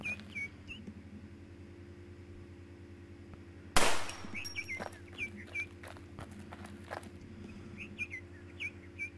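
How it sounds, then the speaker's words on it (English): One sharp, loud gunshot rings out in the survival shooter game Infestation: The New Z, cutting through a steady engine-like hum and scattered chirping ambience with a brief decaying tail. "Did you not hear that gunshot?"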